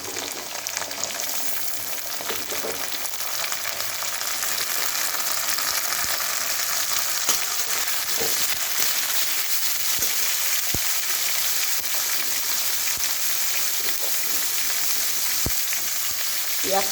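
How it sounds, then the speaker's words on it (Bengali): Chopped vegetables frying in hot oil in a pan for a flattened-rice pulao give off a loud, steady sizzle that fills the whole stretch, punctuated by occasional sharp clicks and scrapes of stirring. "আমি এখন কেটে রাখা সব সবজিগুলো আমি এক এক করে দিয়ে দিচ্ছি"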